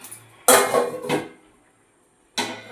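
A metal lid clanks onto a pan of mutton curry in two quick knocks, followed by a pause and then a third louder clatter of cookware, close and clear with no talk.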